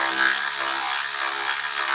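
A power tool whines steadily while the bottom plate is removed from beneath a 1975 Mercedes in a shop bay, a loud, continuous, close buzz with no talking.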